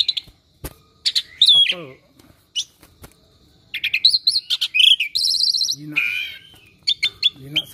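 An Asian pied starling (jalak suren), a tame pet bird, giving loud, close chirps and whistled calls in bursts and short phrases, with a person speaking briefly between them.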